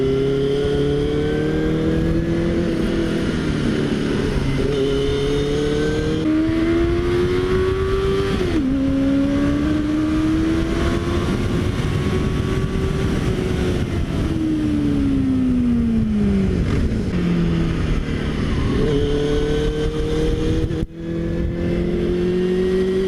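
Loud, throaty exhaust of a Benelli 600i four-cylinder motorcycle climbing a winding ghat road, the engine note rising and falling steadily through gear changes for over twenty seconds, close and continuous.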